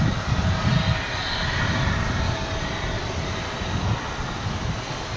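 An American Airlines Boeing 737-800 arriving at DFW airport gives off a steady, broad jet-engine roar at middle distance, holding fairly level throughout with no clear speech.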